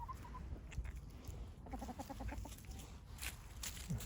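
A chicken walking about on a small farm, giving a short run of quiet clucks over faint outdoor background noise, with no one speaking.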